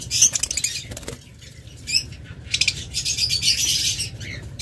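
Pet birds, an opaline split blue lovebird pair, flutter and scrabble in a cage: repeated wing flaps, scratchy patter and a few faint chirps, fairly close, with no talking.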